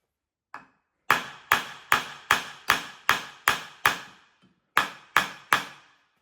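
Hammer blows on a rear wheel stud of a Brabham BT21 race car in a workshop: one lighter tap, then a steady run of about eleven loud, sharp metallic strikes with a short pause before the final three.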